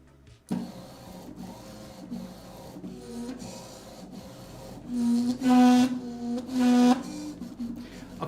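A self-built Core-XY 3D printer with input shaping enabled runs nearby, whirring and rasping with rhythmic motor movements and rising tonal whines as the axes move back and forth.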